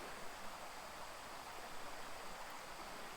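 A stream runs beside cliff walls in Forestville Mystery Cave State Park, Minnesota, a soft steady rushing wash of water, faint and unbroken, with no voices.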